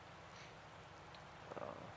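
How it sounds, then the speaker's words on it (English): Rain falling in a farming game, a faint, steady hiss of drops with a few slightly louder patters near the end, heard alone without voices. "The rain doesn't seem like it's holding us up any bit."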